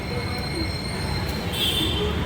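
A metro train at Ameerpet metro station in Hyderabad gives a loud, close, steady rumble with high, sustained wheel squeal and a faint whine above.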